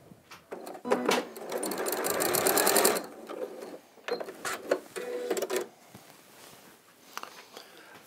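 Domestic sewing machine stitching a quarter-inch test seam for a Bargello quilt: a fast, buzzing run of stitches lasting a couple of seconds, then shorter bursts and a few clicks and handling noises, fairly quiet and close.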